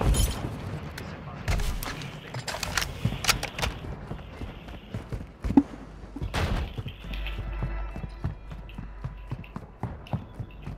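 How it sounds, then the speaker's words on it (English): An airstrike in Call of Duty gameplay comes as heavy thuds and booms among scattered gunfire bursts, loud and chaotic, with players' voices talking over the action. "Ramsey airstrike on the way."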